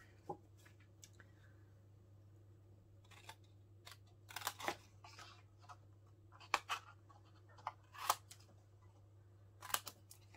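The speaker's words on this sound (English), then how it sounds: "you're just going to cut straight along one of the score lines" Scissors cutting a paper craft box along its score lines, a series of scattered crisp snips and rustles, close but quiet, with gaps of near silence between.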